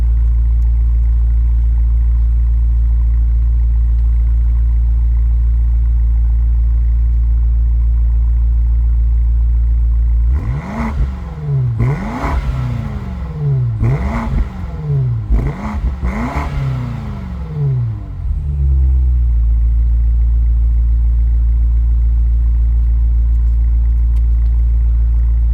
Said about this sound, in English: let's hear a little bit of that exhaust sound